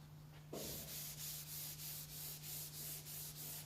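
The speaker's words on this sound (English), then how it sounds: "as seen here with dry sanding." Dry sanding of a car body panel: after a brief quiet start, a close, steady abrasive rubbing begins and repeats in regular back-and-forth strokes, alone.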